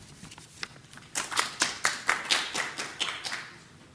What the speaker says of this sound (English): I'd like to give everybody to give her a round of applause